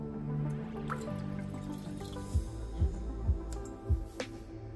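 Water being poured into a pot for making grits: a faint liquid trickle with a few distinct drips and splashes near the end, close by and quiet, with no talking.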